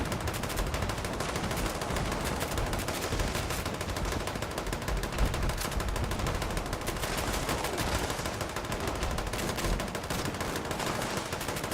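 Relentless rapid-fire weapon shots in the Fallout 76 video game, a dense, unbroken stream of loud cracking bursts filling the entire span at an even pace, with no talk over it.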